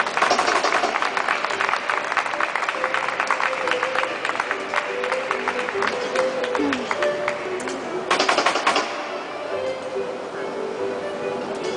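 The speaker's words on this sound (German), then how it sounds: "Großen Applaus, meine Damen und Herren." Audience applause at a German barista championship, steady dense clapping throughout, swelling briefly near the end then easing off, with some crowd noise mixed in.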